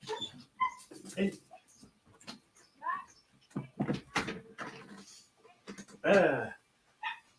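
A neighbour's puppy gives a series of short whimpers and yelps, scattered irregularly and close by, with a longer, louder whine near the end, mixed in with intermittent speech.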